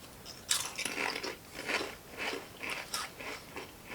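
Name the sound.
biting into Mister Potato sour cream and onion chips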